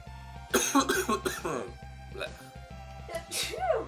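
A single sharp sneeze bursts out during a live game-development session, loud and close, amid bursts of people talking and background music.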